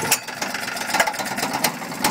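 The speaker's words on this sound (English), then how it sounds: "So that was a demonstration of the pull start." The small engine of a 1.5-tonne cricket roller runs after a pull-cord start, ticking and knocking in a steady, slightly uneven idle close by.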